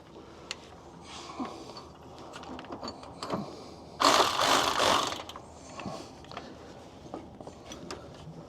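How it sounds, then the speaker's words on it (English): Right angle drive ratchet tightening the clutch linkage on a Peterbilt 379 truck transmission, heard as scattered soft mechanical clicks and ratcheting with a brief louder burst of clatter, fairly faint in a workshop space. "Grab our right angle drive."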